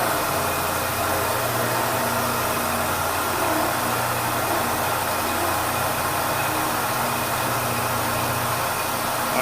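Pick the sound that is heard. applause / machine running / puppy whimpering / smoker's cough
machine running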